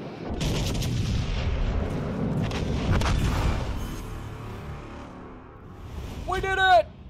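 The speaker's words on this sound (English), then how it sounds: "The rear gun's on target." Naval gunfire in the game World of Warships Legends: deep, rumbling artillery booms roll through the first few seconds, fading away, followed by a brief rising electronic game tone near the end. No speech is heard.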